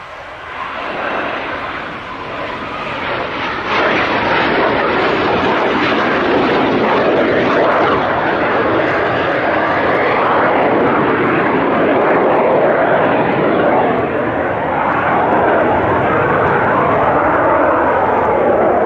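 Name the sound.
two Strikemaster jet aircraft flying in for a break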